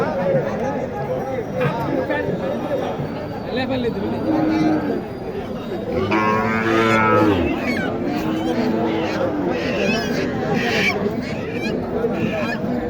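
Busy cattle market crowd at Mataji Haat, Naogaon, with a low, drawn-out bellow from Sahiwal cattle standing out midway amid constant chatter and background voices.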